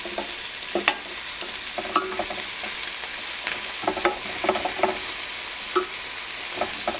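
Lamb sizzles steadily on a Ninja Foodi grill, a continuous hiss broken by frequent small pops and crackles, close and fairly loud with no talking.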